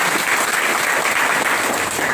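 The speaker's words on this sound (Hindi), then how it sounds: "बहुत बढ़िया, इनके लिए जोरदार ताली बजा दीजिए।" Steady, dense applause from a class cheering a student at an electronics repair training on IC reballing and re-mounting, continuous and fairly loud throughout without talk.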